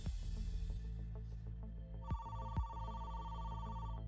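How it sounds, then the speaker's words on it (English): A telephone rings in a hotel room with a bright, steady electronic trill starting partway through, layered over a low musical drone. "The FBI simply made a phone call into the room."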